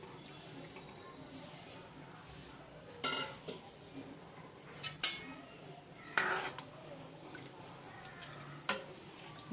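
A metal spoon stirring kadhi, a yogurt curry, in a pot on a gas stove. There is a faint, steady scraping background, and a few sharper clinks and knocks of utensil against pot come every second or two.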